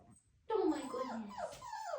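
A young puppy lets out a sustained, wavering whimper up close, a thin whining cry that rises and falls for over a second after a brief quiet start.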